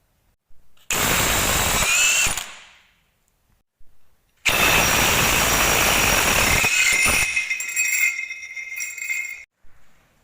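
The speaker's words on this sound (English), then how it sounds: "Next step, remove the 2 30mm bolts holding the diff mounts on." A power tool, likely an impact gun, removes the two 30mm bolts holding the diff mounts on a Ford Falcon during a diff bushing change: two loud bursts of close whirring and rattling, the second longer and tapering off, with a metallic clink between.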